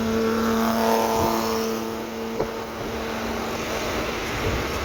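A Suzuki Alto fitted with a converted K6A 660cc engine drives along a road, its engine humming steadily and close at hand with a faint rise partway through, and no one speaks.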